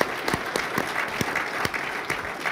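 An audience at a policy summit claps in a brief, steady burst of applause with sharp individual claps close by.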